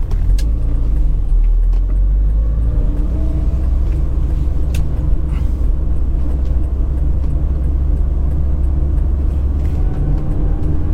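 A 1997 Toyota Paseo 1.5iS's engine hums as a steady, loud low rumble while driving, heard from inside the car with road noise and a few light knocks.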